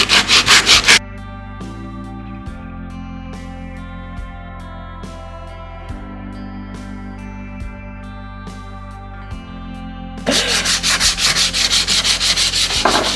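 Rough sandpaper rasps by hand against a wooden scaffold board, close and loud: a burst of quick scratchy back-and-forth strokes opens, a stretch of steady music follows without sanding, then the rhythmic gritty rubbing resumes near the end.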